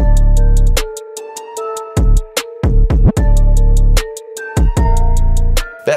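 A hip-hop beat loop built in FL Studio, with a crisp drum pattern of rapid hi-hat ticks and punchy hits over booming 808 bass notes and a melody, loud and without voices.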